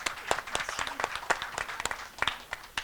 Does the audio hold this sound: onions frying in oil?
no